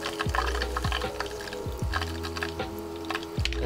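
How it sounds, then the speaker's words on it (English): Lye is poured into water in a homemade HHO hydrogen generator, giving soft, quiet splashing and trickling with a few small gurgles and liquid pops. "So let's put in a little bit more lye."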